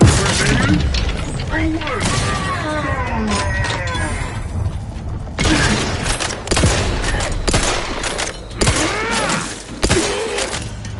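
Grenade blasts and bursts of gunfire from The Outer Worlds 2 battle: a dense, loud stream of repeated sharp shots and booms over about eleven seconds, with a game voice calling out in between.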